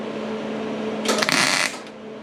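A welder lays a short crackling, buzzing bead on a 1960 VW Beetle, a burst lasting well under a second that rises out of a quiet hum and then cuts off.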